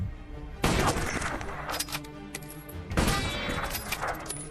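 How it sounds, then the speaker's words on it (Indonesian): Sniper shots fired at a row of targets in a film, two sharp loud bursts with crackling echoes and smaller impact snaps between them, over a busy film soundtrack. "Zarin yang merasa ditantang muridnya lalu menembak semua target dengan jitu."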